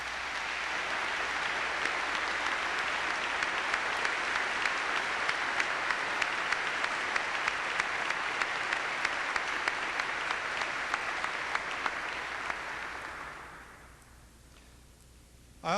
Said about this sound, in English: I ask you to join me in applauding him.